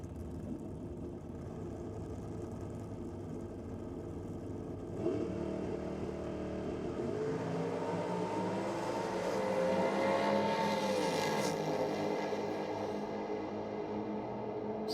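A nitrous-equipped drag racing car launching from the starting line at a nitro drag meet, a steady idle that bursts into a loud, rising engine roar that carries on for several seconds.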